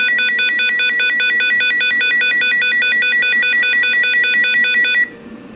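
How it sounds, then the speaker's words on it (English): A RadioShack 21-1679A weather radio sounds its watch alert siren, a loud, rapidly warbling electronic tone alternating between two pitches for about five seconds before cutting off abruptly, leaving faint background noise. "here is the watch siren"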